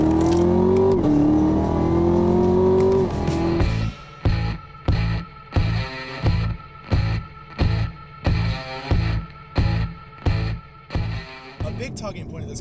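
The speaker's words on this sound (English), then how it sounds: "As you can hear right now, the downshifts are very fast." A car accelerates with a rising engine note, then a rapid series of evenly spaced downshift blips and rev bursts follows, loud and close.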